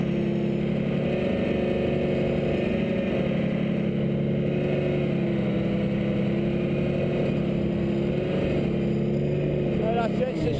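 Heavy vehicles, with a Russian tank among them, rumble past nearby in a steady low engine drone that holds for the whole stretch, with voices talking over it.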